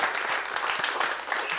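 Audience at a stand-up comedy club applauding, a short burst of dense, even clapping with no talking over it.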